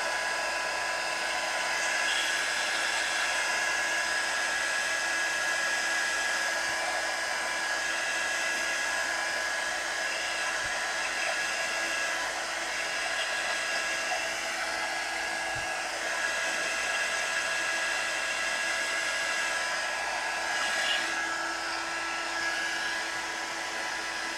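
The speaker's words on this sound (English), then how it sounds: "I'm gonna hit that with the heat gun a little bit and blot" A heat gun blows steadily over watercolor paint on paper, a constant close whirring rush of air with a high motor whine that holds level throughout.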